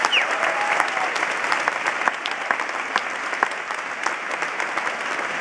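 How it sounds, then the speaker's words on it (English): A gala crowd at the Marian Anderson Award event in Philadelphia gives a huge round of applause to the board of directors, steady and full for several seconds with faint voices beneath. "can we please recognize them with a huge round of applause"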